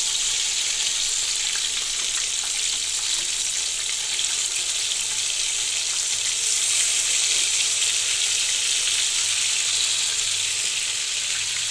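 Green chicken pieces frying in a pan, producing a loud, continuous, even hiss and crackle of hot oil that holds steady throughout.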